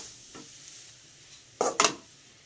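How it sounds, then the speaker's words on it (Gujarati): Grated carrots for carrot halwa cook slowly in ghee, with a soft, faint sizzle under two or three quick stirring scrapes against the pan. "પાંચસો ગાજરને આપણે ફ્રાય કરતા રહીશું ધીરે ધીરે"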